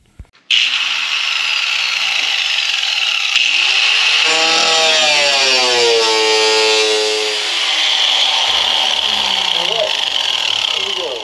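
Power tool cutting out a rusted metal body panel on a 1977 Dodge Ramcharger, a loud, steady high-pitched whine that runs nearly the whole time, with its pitch shifting as the cut progresses.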